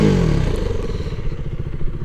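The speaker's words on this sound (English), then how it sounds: "Doesn't sound bad either with the stock exhaust." A KTM Duke 390 motorcycle with its stock exhaust runs nearby, its single-cylinder engine putting out a loud, choppy, pulsing thrum that settles from a quick drop in pitch into a steady idle.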